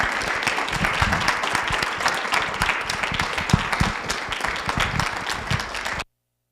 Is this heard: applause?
yes